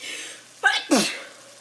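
One sharp sneeze with a quick intake of breath, then an explosive burst, close up.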